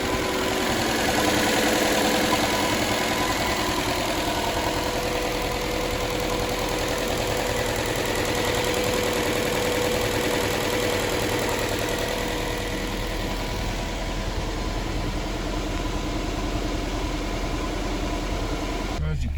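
A car engine runs at a steady idle a couple of minutes after start-up, before the engine is pulled, with oil pressure slowly dropping; a loud, continuous rumble with slight knocking that stays unbroken throughout, while a voice talks over it.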